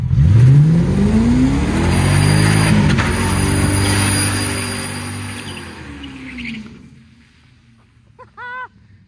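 A car with a welded differential revs hard through a burnout, its engine rising and falling loudly for several seconds. The noise then fades, and a short whine or squeal follows near the end.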